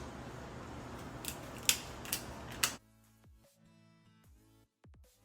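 Kitchen scissors snip down the back of a lobster shell, giving a few sharp, close cuts over a steady background hum, then quiet handling sounds.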